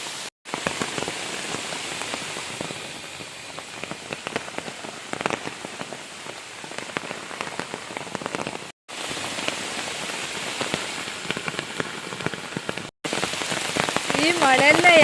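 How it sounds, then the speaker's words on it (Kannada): Heavy rain pours steadily outdoors on a night of downpour, a loud dense hiss of drops hammering surfaces close by, continuous with two brief cuts and no talk. "ಈ ಮಳೆಯಲ್ಲೇ ಹೋಗ್ತಾ ಇದ್ದೀನಿ."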